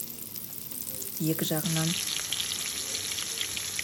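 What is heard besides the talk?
potato cutlets frying in oil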